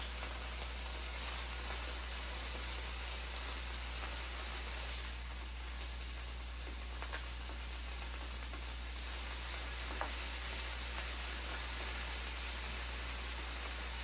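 Ahi tuna steaks sear in oil in a hot pan, a steady close sizzle and crackle running continuously with a faint low hum underneath and no talking.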